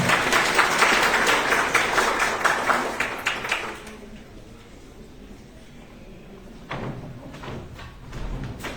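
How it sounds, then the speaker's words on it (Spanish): An audience at a school oratory contest in Espíndola claps in a dense burst of applause that lasts about four seconds, then fades to a quieter room with a few scattered thumps. "Fuerte el aplauso."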